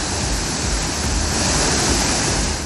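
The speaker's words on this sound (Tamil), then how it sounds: "திருப்பரப்பு அருவியில் தண்ணீர் ஆர்ப்பரித்து கொட்டுகிறது" Heavy steady roar of a waterfall at Thirparappu falls swollen after heavy rain in the Western Ghats, a dense continuous rush of water with no pauses, loud and close throughout.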